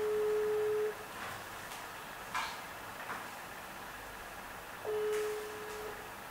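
A telephone call tone sounds as two long, steady, pure beeps separated by a pause of several seconds, clear against a quiet background with faint rustling.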